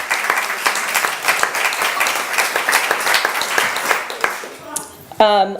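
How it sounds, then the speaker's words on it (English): A small audience at a community talk claps for a speaker, the individual hand claps sharp and distinct before they thin out, and then a voice starts talking at the very end. "so if we could get a round of applause for John."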